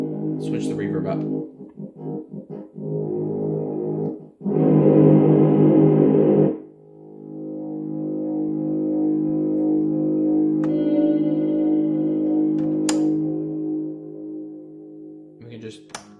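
Toy keyboard with an added drone feature, run through heavy reverb: sustained droning chords and notes with a loud distorted burst midway, then a long ringing held tone, with brief speech at the start.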